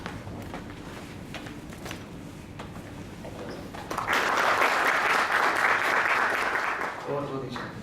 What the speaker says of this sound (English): I would request you all to please welcome Vishal Gada with a round of applause